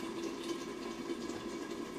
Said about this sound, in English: if it is too thick for you, you add a little bit of water